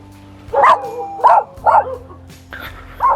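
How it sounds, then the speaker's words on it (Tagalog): Several dogs bark in short, loud, close bursts, roughly four barks spaced across a few seconds at a farm, over a low steady background hum. "Daming aso."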